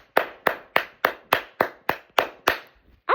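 A woman claps for herself: nine sharp, evenly spaced hand claps at a steady brisk rhythm, close and clear, ending with a brief faint sound after the last clap.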